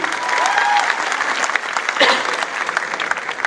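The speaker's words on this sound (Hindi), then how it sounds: "मैं चाहता हूं उनके लिए भी बड़ा जोरदार तालियां होनी चाहिए।" Loud, steady applause from an audience at a wellness business event, dense clapping filling the whole stretch with a brief swell near the middle and faint voices mixed in.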